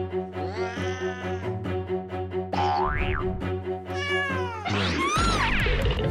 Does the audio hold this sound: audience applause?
no